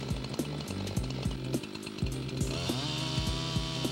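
Chainsaw milling a braced log into 5.5-inch-thick lumber slabs, its engine a loud, steady, close drone that pulses with the cut and turns brighter and harsher near the end as the chain bites.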